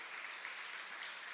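Congregation applause in a church, a steady soft wash of many hands clapping at low volume with no voices over it, briefly sustained.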